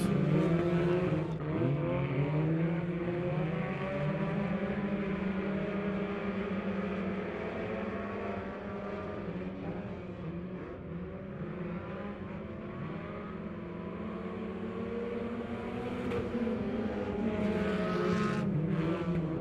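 Hornet-class stock cars race door to door at Lebanon Midway, engines droning and revving together as the pack sweeps past, a continuous loud pulsing roar with shifting pitch.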